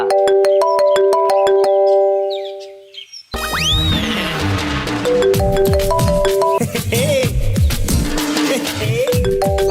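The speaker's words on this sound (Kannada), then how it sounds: "ಫೋನ್ ರಿಂಗ್ ಆಗ್ತಿದೆ" A bright electronic phone ringtone plays a repeating melodic tone pattern, briefly fading, then returning loud under a busy layer of dramatic background music and sound effects from a Kannada TV serial scene.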